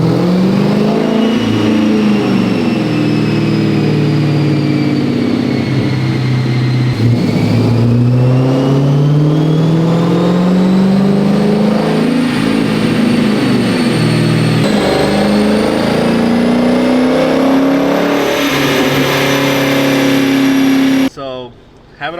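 A Dodge Charger R/T engine on a dyno revs loudly through long rising pulls, its pitch climbing and dropping in repeated sweeps before cutting off near the end.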